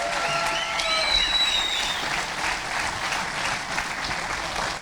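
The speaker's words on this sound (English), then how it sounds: "Let's give them a round of applause." A hall of fame ceremony crowd applauds the 1967 Fresno Volleyball Club, a sustained, even roar of clapping with a few whistles near the start.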